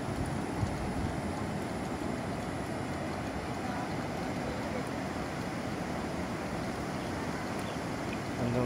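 Steady, loud rushing river water at a dam roars without a break, a broad continuous wash of sound close by, with no voices heard.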